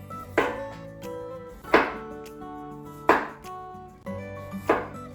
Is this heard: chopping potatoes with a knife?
yes